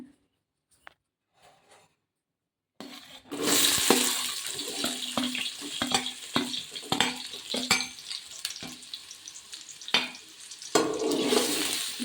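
Onions roasting in hot oil in a pan for an ivy gourd gravy, a quiet start giving way at about three seconds to steady, close sizzling and crackle with stirring scrapes, with no talk.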